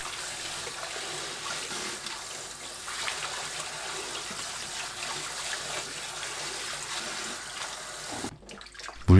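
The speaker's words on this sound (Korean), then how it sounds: "후 찬물에 헹굽니다." Blanched pumpkin leaves are rinsed in cold water: a steady, close rush of running water and sloshing lasts throughout, ending in a few quick clatters.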